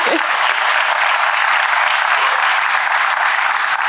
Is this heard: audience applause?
yes